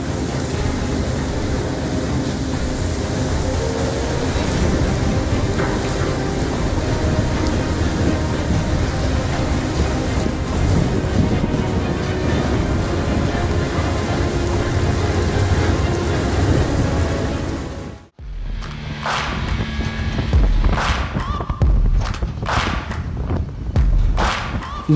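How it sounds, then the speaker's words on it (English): Floodwater rages through a swollen river under an iron bridge, a loud, dense, continuous roar of churning water that cuts briefly and returns rougher with sharp splashes and thuds. "Look at how the water level in the river has risen during the flood. Even the iron bridge can barely withstand such a raging flow."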